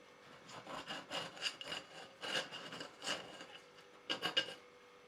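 A knife cuts portions of Ghanaian yake yake made from yuca on a plate, giving faint, close scraping and rubbing strokes in short irregular bursts.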